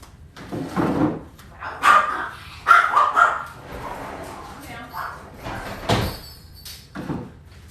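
Dogs bark several times in short bursts as they are let out, mixed with door sounds and a person speaking nearby.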